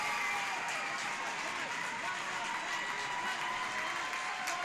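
Otterbein Cardinal fans at a women's volleyball match against Capital rise to their feet, their cheering a steady, busy roar filling the gym, with a commentator's voice running over it.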